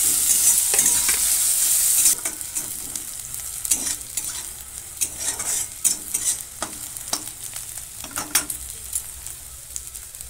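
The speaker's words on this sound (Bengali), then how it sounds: "গাজরটাকেও ভালো করে ভেজে নেব যাতে কাঁচা গন্ধটা চলে যায়" Oil sizzling steadily as grated carrot fries in a pan, with repeated scraping and clinking of a spatula stirring it.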